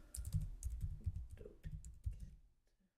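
Quick, irregular keystrokes on a computer keyboard tap at close range, then slow and fade out near the end; quiet, with no speech.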